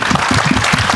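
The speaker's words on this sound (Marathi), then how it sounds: "कडकडीत टाळ्या झाल्या पाहिजेत." Loud, dense applause from a crowd at the trailer launch of the film Raja Shivaji, a steady roar of clapping filling the whole second with no pauses.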